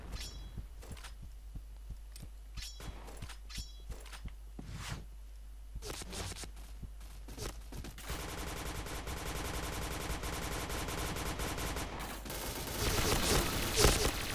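Point Blank video game gunfire rings out as rapid bursts of shots, sharp and separate at first, then merging into dense, continuous automatic fire that grows louder toward the end.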